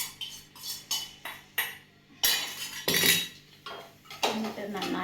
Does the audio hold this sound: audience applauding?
no